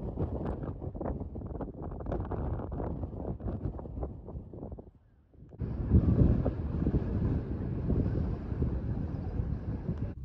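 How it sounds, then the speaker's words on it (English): Strong wind roars and buffets against the microphone continuously, dropping briefly before surging back louder and steadier. "I cannot overstate how windy it is"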